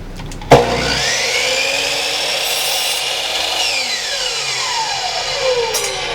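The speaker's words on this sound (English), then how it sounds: "So we're going to go in the bandsaw and do that." Bandsaw cutting a small piece of wood, a continuous close whining cut after a sharp knock, the blade tone steady and then falling away as the cut ends.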